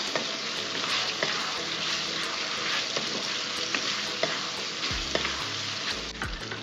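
Chopped tomatoes sauté with turmeric in a pan for a Tamil mochai paruppu kulambu, a steady close sizzle with stirring scrapes and occasional spoon knocks, no voices.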